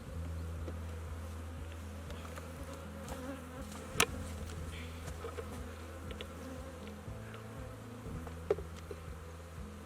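Many honey bees hum in a low, continuous drone close by at an open hive, with a few brief knocks and clicks standing out.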